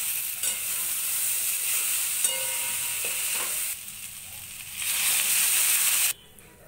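Water poured into a pan of dried fish frying with potato, eggplant and spices produces a loud, close hiss and crackle that dips briefly, surges back stronger, then cuts off abruptly, with no speech.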